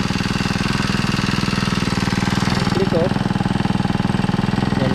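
A Honda GX35 grass cutter engine, freshly fitted with a replacement carburetor, runs steadily at a rapid, even idle throughout, close and loud, with a brief throttle blip near the middle.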